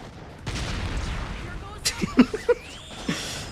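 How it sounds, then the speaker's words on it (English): A sudden burst of loud, punchy blasts explodes in the Mega Man X7 game, several sharp booms in quick succession, exaggerated and comically oversized, rising over a busy game soundscape with a voice talking underneath. "Comically loud explosion effect."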